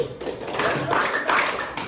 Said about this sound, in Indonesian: Kalau ibu bilang sore, tepuk 3 kali.